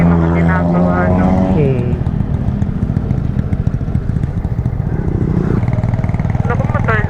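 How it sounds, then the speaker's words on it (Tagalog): A motorcycle engine drones along a road near the Tagaytay flyover in Laurel, Batangas. It is loud and close, with a throaty buzz that shifts pitch as the bike passes, and people talk over it near the start and end. "motor lang yung pinadadaan nila dito"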